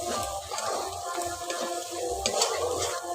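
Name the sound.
sautéing spice paste with chilli and turmeric powder in pan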